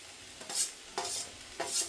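Soybean roast frying in a pan, short bursts of sizzling and crackling that come in three brief bouts as the mixture is stirred, close and fairly quiet.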